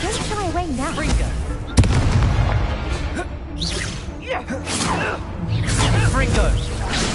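In Hogwarts Legacy, the Expelliarmus spell is cast with a sharp burst and whooshing crackle. Spoken voices run over the game sounds, and the spell's sparkle fades into a continuing busy mix.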